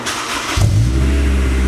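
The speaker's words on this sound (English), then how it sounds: "this is gonna be the first start of the S2000 right now with the GReddy exhaust" A Honda S2000 fitted with a GReddy Revolution RS exhaust starting up: a quick starter whir, then the engine catches with a deep, steady idle rumble, close and loud.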